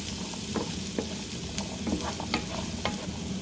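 Turnips frying in a pan for a keto breakfast hash, a steady close sizzle with frequent light scrapes and taps from stirring, continuous and even with no talking.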